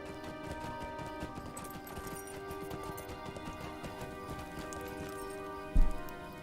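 A pony's hooves clip-clop at a steady walking rhythm in the online game The Lord of the Rings Online, over soft game music, ending with a brief louder thump.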